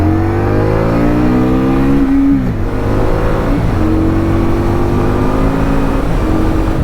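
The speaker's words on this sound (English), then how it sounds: "bounce it off red line. So we found the rev limiter" A 2020 Indian Scout Bobber Twenty motorcycle engine, held in first gear, revs hard and climbs in pitch, hits its rev limiter and bounces off, then revs up again. It is loud, close and has no speech.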